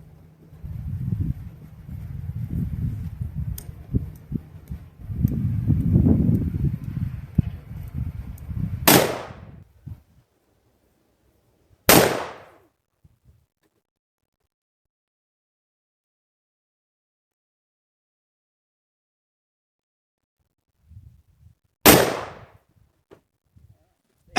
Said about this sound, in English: Jeremy's going to take 2 more shots and see where we're at.